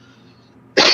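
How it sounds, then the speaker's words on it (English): A single harsh cough comes close to the microphone and is fairly loud. A quiet stretch of low background hum comes before it, and the cough ends the clip. "just coughing a little bit"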